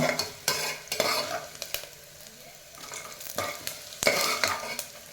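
Food fries in a pan, a sizzling hiss broken up by repeated sharp scraping strokes as it is stirred, close up and uneven in rhythm, with no voices.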